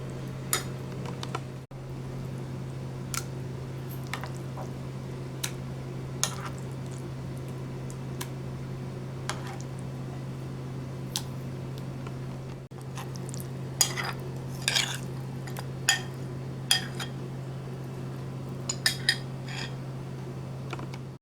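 Fried eggplant pieces being moved into a serving dish in a home kitchen, soft scraping and squishing with scattered light clinks of utensils on dishes over a steady low hum.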